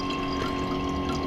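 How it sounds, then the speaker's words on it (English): Coolant water rushing through the cooling system lines of a BMW E82 drift car just after first start, a steady, dense liquid whoosh with a constant hum beneath, loud and close, with no talking. "You feel the water rushing through all the lines."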